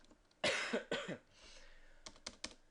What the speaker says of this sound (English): Damn this cough.